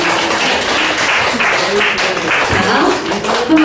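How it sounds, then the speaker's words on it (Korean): An audience at a church marriage-relationship seminar claps in steady, dense applause nearby, with a voice audible beneath it. "박수 한번 쳐주세요"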